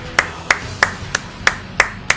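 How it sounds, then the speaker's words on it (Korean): Seven crisp, evenly spaced hand claps from a single nearby person during a Naruto Storm 4 online league broadcast, each a sharp isolated smack with quiet gaps between. "박수 한 번씩 부탁드립니다"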